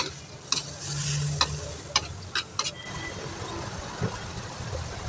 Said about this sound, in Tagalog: Isa naman po natin ang kamatis. Yan, haluin lang natin.